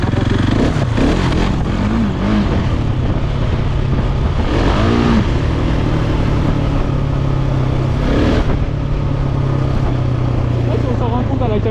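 A Husqvarna 701 motorcycle rides on the road, its engine droning and rising in revs in bursts alongside wind noise, while a rider talks over it.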